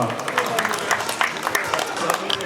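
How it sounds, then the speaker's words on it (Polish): A crowd applauds the winners at a vintage car rally in Ostrów Wielkopolski, giving a steady, dense patter of clapping at moderate distance while someone speaks over it. "Wielkie brawa dla nich, wielkie brawa dla nich, szanowni państwo."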